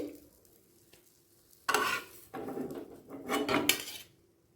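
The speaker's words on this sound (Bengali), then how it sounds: "এবার ডিমের পিসগুলোকে অন্য পাত্রে ঢেলে রেখে দিচ্ছি" Fried egg pieces being scraped and tipped from a pan into another pot, a quiet start followed by several loud bursts of metal scraping, clattering and sizzle close by.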